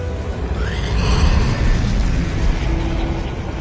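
A heavy explosion from a film battle scene rumbles as a dense, loud low-end roar that swells around the first second and sustains, with a high whistling sweep above and a thick blast wash throughout.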